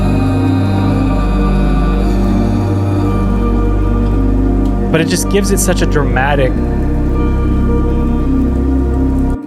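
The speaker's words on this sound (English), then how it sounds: "It's just rain." A rain sample sits as background texture in an electronic music track, a soft continuous patter beneath sustained musical tones, with a person talking over it.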